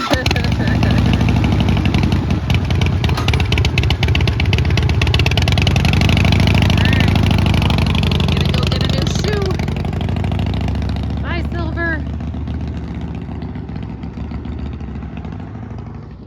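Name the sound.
old Harley-Davidson motorcycle engine idling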